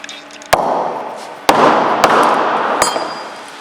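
Old sleeve bearing from a CN MAG M ANSI magnetic drive pump being broken apart, four loud sharp impact cracks over a steady background roar.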